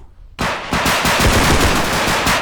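Automatic gunfire in the shooter game Bodycam, a loud, close, sustained burst of rapid shots starting abruptly after a brief quiet moment and running steadily to the end.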